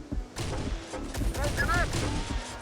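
Gunfire and impacts in the video game Terminator: Dark Fate - Defiance, a cluster of sharp shots and crashing hits at close range, with a voice talking over the combat.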